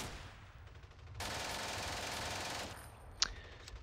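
Gunfire in the WWII tactical war game Steel Panthers comes as a steady, dense burst of automatic fire that rattles on for a second or two, followed by one sharp crack, at moderate volume with no talk.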